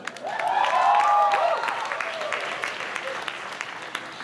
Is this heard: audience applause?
yes